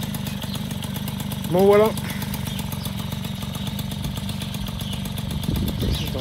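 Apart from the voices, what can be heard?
MBK 51 Magnum moped engine accelerating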